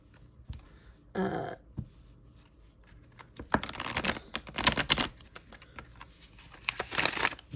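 A tarot card deck is shuffled by hand, with soft riffling bursts and flutters of card against card, close and fairly quiet, growing busier toward the end.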